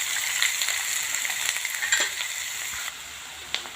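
Garlic, ginger and green chilies sizzle in hot oil seasoned with cumin and asafoetida, a close, continuous frying crackle with small pops and stirring, then a slightly quieter tail.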